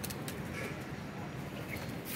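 Soft pigeon cooing over a steady outdoor background hum, faint and somewhat distant.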